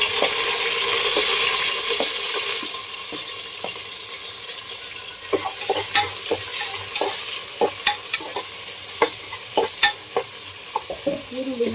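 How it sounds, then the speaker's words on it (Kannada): Onion frying in a pan for pulao, a continuous sizzle under repeated sharp clicks and scrapes of a spoon stirring, close and alone with no voices. "ಈರುಳ್ಳಿನ ಚೆನ್ನಾಗಿ ಫ್ರೈ ಮಾಡಬೇಕು"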